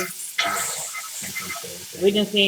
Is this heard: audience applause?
no